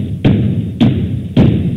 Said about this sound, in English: The robot banged on the door for a few seconds